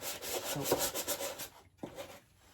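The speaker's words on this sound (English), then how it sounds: "Let's just sandpaper," Sandpaper rubbed over the back of a model railway layout part, quick rhythmic rasping strokes that pause and resume briefly, close up and alone.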